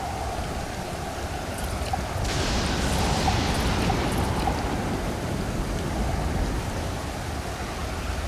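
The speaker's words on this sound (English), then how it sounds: "the rain will keep refilling your still." Steady rain pours down on a deserted island in Stranded Deep, a continuous hiss of falling drops that swells a little partway through and stays constant, with no voices.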